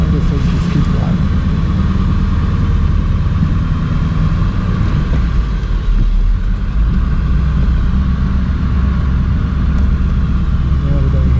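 A car driving down a road, with a steady low engine rumble and road noise that runs throughout at an even level, close to the listener.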